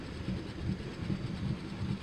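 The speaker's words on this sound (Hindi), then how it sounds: "यहाँ WDM 3D लोकोमोटिव अपना एक्सलेशन दिखाते हुए बहुत जल्दी हम लोग 40 का स्पीड पकड़ लिए" A WDM 3D diesel locomotive accelerates in the MSTS train simulator game, giving a steady, continuous low rumble with a faint repeating rhythm throughout. No one speaks.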